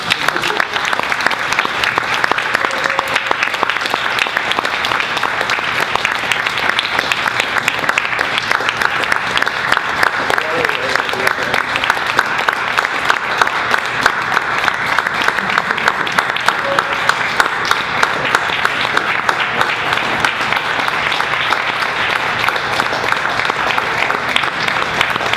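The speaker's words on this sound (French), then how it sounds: "une main d'applaudissement." Loud, sustained applause from an audience at a 35th anniversary speech by a union president, dense clapping that holds steady and close throughout.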